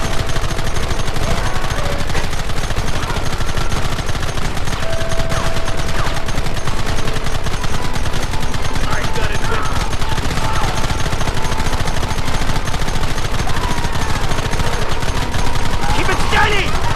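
Gunfire in the Western video game Red Dead Redemption, dense rapid shots and bursts under a loud continuous wash of battle noise and music, with no clear pauses.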